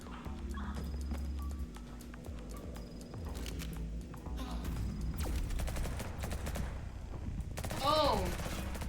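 Rapid machine gun fire in the video game Liberated, with dense bursts over steady game ambience that grow louder toward the end, along with faint speech.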